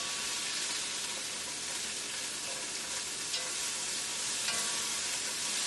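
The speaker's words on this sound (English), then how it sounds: "Now just give that a nice mix." Egg roll filling with roasted garlic sizzles steadily in a hot pan while being stirred, a continuous bright frying hiss with occasional soft scrapes and no talking.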